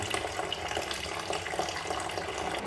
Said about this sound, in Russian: Сейчас воду сольем окончательно.